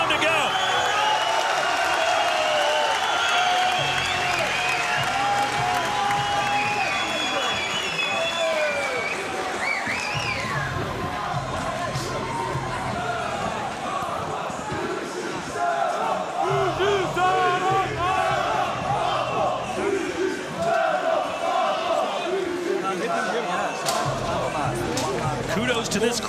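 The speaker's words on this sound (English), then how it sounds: "Kudos to this crowd in Essen. They have been very loud all night long." Loud arena crowd at a GLORY kickboxing event in Essen, a constant roar of cheering and shouting that runs throughout, with commentators talking over it.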